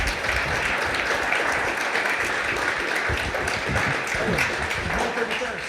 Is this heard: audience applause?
yes